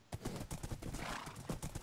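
Rapid hoofbeats clip-clop in a steady galloping rhythm, loud and close, with a horse snorting amid the gait, from a horse in Minecraft.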